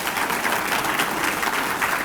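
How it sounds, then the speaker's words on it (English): A town meeting audience gives a round of applause for the town clerk at a 2020 inaugural address, continuous clapping at a steady, fairly loud level from start to finish. "Give him another round of applause for everything he does."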